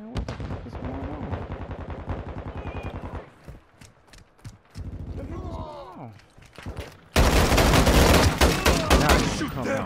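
Rapid gunfire from Call of Duty Modern Warfare 2 multiplayer, with loud automatic bursts and repeated shots, a quieter stretch in the middle, then a final dense, loud volley. Voices can be heard over the action.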